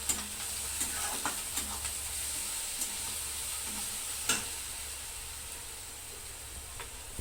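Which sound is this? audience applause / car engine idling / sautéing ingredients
sautéing ingredients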